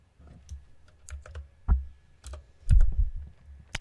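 Computer keyboard typing in short irregular bursts of clicks and key taps, close and clear with pauses between groups of keystrokes, no talking.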